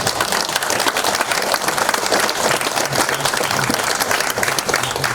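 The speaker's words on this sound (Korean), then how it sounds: "한번 뜨거운 박수를 부탁드립니다" Dense, loud audience applause fills a political party gathering in Korea, a steady wash of many hands clapping throughout with no voices above it.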